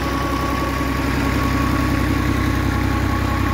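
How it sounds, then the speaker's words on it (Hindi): A Fiat 480 tractor engine drives an irrigation water pump on a Punjab farm. It runs loud and close with a steady low droning idle and a constant mechanical hum and vibration, and no voices are heard. "tractor driven irrigation system fiat बाजू का चार सौ अस्सी मॉडल के साथ ये वाटर पंप अटैच किया गया है"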